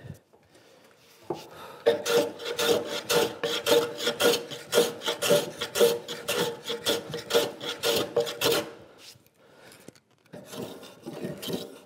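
Hand tool rasping a light chamfer along the edge of a wooden workbench top, a steady run of close, loud back-and-forth strokes for about seven seconds, then a pause before a few more strokes at the end.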